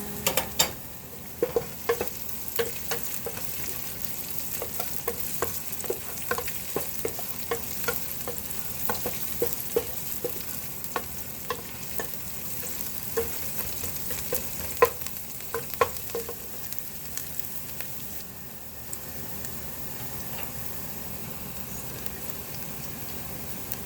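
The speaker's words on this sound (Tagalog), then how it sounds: "Tapos ilagay ko na lang rin yung onion." Onion fries in a pan with a constant, close sizzle and crackle, and frequent stirring clicks and scrapes from a utensil run through the sound. No one speaks.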